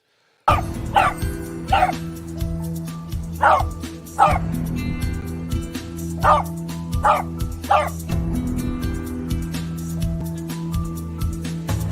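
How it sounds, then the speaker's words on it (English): A pet dog barks and yips repeatedly in short bursts, fairly close, with some whimpering between barks and no talking. "we're going to end this as usual with a little message from my lovely dog, Weston."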